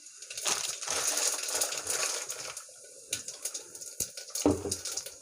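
Cumin seeds crackle and sizzle in hot oil for a wedding-style dal rasam, a continuous bright frying hiss with scattered sharp pops and a couple of louder bursts near the end; no talking.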